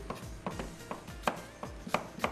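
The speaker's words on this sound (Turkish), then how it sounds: "Soğan kıyar gibi kıyıyoruz." A knife chops an apple finely on a board for a strawberry-stuffed apple dessert: about eight crisp, fairly even strikes in quick succession, close and clear with no voices.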